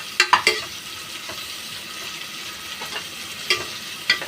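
Onions frying in a pan for a vegetable biryani with meal maker, with a steady low sizzle and a few sharp clinks and scrapes of stirring at irregular intervals.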